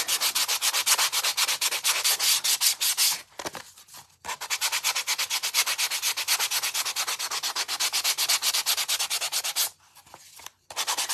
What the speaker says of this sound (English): I'm going to sand this in a little bit if I'm going to use this side